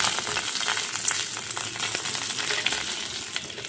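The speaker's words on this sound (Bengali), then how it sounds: "কাজু, কিশমিশ আর পেস্তা নিয়েছিলাম, এগুলোকে আমি ফ্রাই করে নেব।" Cashews, raisins and pistachios fry in hot ghee over a low flame, a close, dense crackling sizzle with constant fine pops and light stirring throughout.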